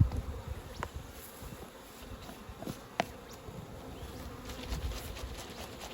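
Honey bees (Apis mellifera) buzz around an open hive during an autumn Varroa mite check, a continuous close drone with a few brief clicks and knocks, no voices.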